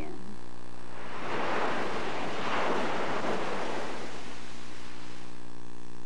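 Ocean waves rolling in below a fort wall, one broad surge swelling and then fading, with a steady wind-like rush throughout.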